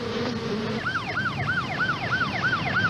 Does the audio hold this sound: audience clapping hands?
no